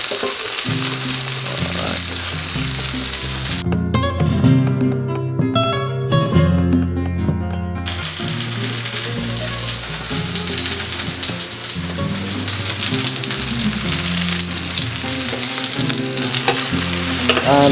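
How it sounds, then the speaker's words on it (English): Red pepper frying in a paella pan while being stirred and moved around, a loud continuous close sizzle with scraping stir sounds, briefly interrupted by a different mechanical passage, with no talking. "we're just gonna move it around a bit so that the pepper starts cooking"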